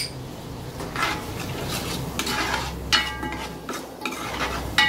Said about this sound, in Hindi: तमाम चीज़ें शामिल करके इसको 2 मिनट भून लेंगे हम अपने मसाले को अच्छे से